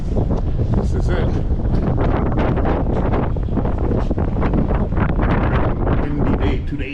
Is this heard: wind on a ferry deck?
yes